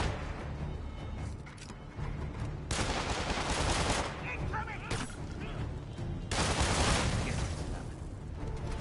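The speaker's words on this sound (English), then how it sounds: "Where are these guys shooting from?" Rapid gunfire bursts and volleys from the Marvel's Spider-Man video game crackle loudly through a dense combat mix, with heavy fusillades swelling around the middle and again near the end.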